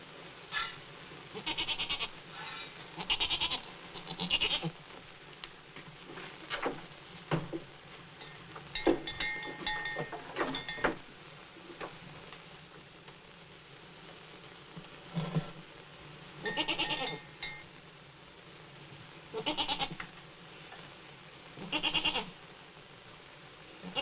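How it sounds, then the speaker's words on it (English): A goat on a farm, in a family drama, bleats repeatedly in short bursts spread over about twenty seconds against a quiet rustling background. "I think you're a beautiful goat."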